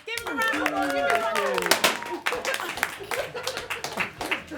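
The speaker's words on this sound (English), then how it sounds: "Give yourself a round of applause" Studio audience applauding a guest on a chat show, a burst of hand clapping running throughout while a host speaks over it with a laugh.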